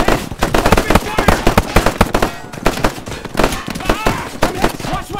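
Dense, loud gunfire in a modern war shooter game pitting Russia against the USA, rapid overlapping shots and bursts crackling continuously, with voices shouting amid the firing.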